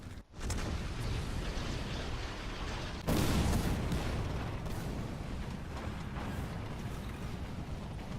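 Tank gunfire in the video game War Thunder: one heavy cannon blast about three seconds in, set against dense, constant rumble of battle and engine noise, moderately loud and distant-sounding.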